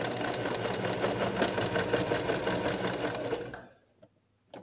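A sewing machine runs in reverse for a backstitch, whirring rapidly and steadily up close for about three and a half seconds before stopping abruptly, followed by a faint click.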